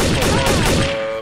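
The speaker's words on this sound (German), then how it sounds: "Oben auf dem Turm gibt's gerade Schießerei" Rapid gunfire bursts in the video game Trouble in Terrorist Town, a dense, loud volley of shots lasting about a second before cutting off.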